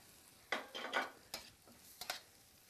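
Shrimp stir-fry in a pan with sesame oil while a utensil tosses them, making a few quick scraping sizzles in short bursts, close but fairly soft, with quiet between them.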